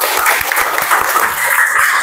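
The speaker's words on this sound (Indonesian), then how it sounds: "Silakan tepuk tangan." Audience applause in an Indonesian classroom teaching session, a steady wash of many hands clapping at close range that fills the whole stretch with no talk over it.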